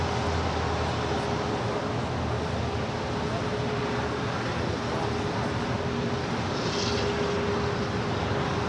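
A Nippon Cargo Boeing 747 taxiing on a taxiway at LAX, a continuous broad engine roar and whine holding steady at a distance, with no voices.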